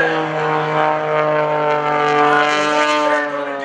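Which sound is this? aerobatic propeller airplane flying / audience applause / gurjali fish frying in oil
aerobatic propeller airplane flying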